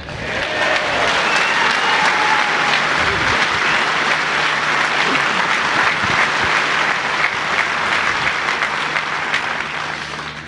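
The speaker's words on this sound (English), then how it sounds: "Thank you for your applause." Sustained, dense audience applause at a political speech on democracy and self-determination, loud and steady from start to finish with no talking.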